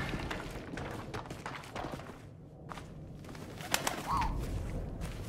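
Soft pigeon cooing in the video game 11-11: Memories Retold rises briefly near the end over a murmuring background with scattered thumps and footstep-like knocks, faint and intermittent.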